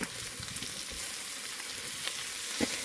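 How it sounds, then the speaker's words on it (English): Flour is stirred into butter and oil sizzling in a pot, giving a steady close frying hiss with faint scraping stirs and no talk. "Stir it up."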